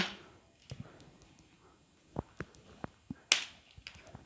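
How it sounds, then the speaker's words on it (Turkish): Sharp, light clicks tap on a hard surface, scattered and irregular, with one brighter crack near the end; fairly quiet with no talking. "Masamız tıkır tıkır ses yapıyor arkadaşlar."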